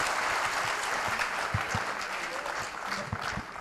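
Audience at a mushaira poetry recital in Patiala, Punjab, breaking into loud, sustained applause, a dense crowd of clapping hands filling the hall without pause.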